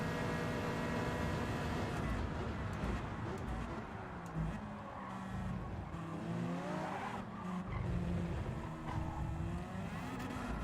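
Race cars, a Supra and a Skyline, roar around a track in Gran Turismo 7, with engine whine shifting through gears and tire squeal over a continuous mid-volume mix.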